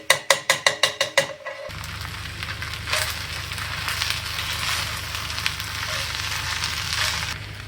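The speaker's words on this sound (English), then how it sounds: "Fry the egg right there." An egg fries in a pan for chicken fried rice, giving a loud, steady sizzle and crackle that starts after a quick series of sharp taps.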